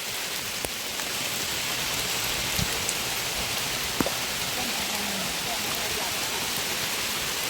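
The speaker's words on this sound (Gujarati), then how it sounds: "વરસાદ ચાલુ છે" Steady rain pours down in a dense, even hiss, with a couple of faint knocks and taps standing out briefly.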